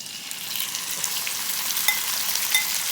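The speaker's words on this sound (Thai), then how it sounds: "นำส่วนผสมทั้งหมดลงไปผัด นะคะ" Steady loud sizzling of food frying in a hot pan, with occasional scraping clicks as ingredients are stirred, no voices.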